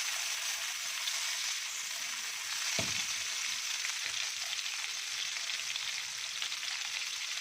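Kofta kebabs frying in a pan, a steady bright hiss of sizzling oil throughout with one brief low knock partway in, heard close and alone.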